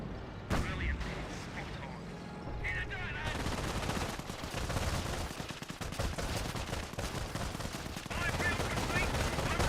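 Artillery barrage in the strategy video game Company of Heroes, a dense run of booming shell impacts and rattling gunfire layered under a commentator's voice, loud and continuous for several seconds.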